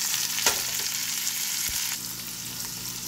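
Chopped tomato and green chilli sizzle steadily in a hot pan for egg bhurji, a close, continuous frying hiss with a couple of faint stirring scrapes.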